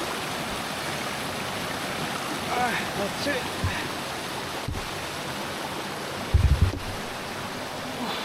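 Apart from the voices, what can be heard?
river flowing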